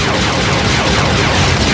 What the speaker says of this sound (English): They should really stop shooting at us if they want our help.